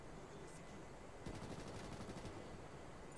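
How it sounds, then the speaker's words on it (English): Gunfire in the shooter game Ghost Recon Future Soldier: a faint, rapid burst of automatic fire rattles for about a second amid low background noise. "Who's firing at a dude?"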